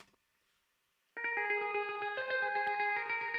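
Electric guitar chords swirled by phaser and delay, psychedelic in character, ringing out loud and sustained after a second of near silence, repeated plucked notes shimmering and overlapping in a busy echoing wash.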